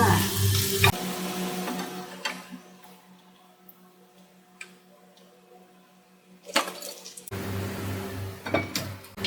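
Chicken wings deep-frying in oil until golden and crisp, a bubbling sizzle loud at the start and end that thins to a faint simmer in the middle, with a few clicks and clatters.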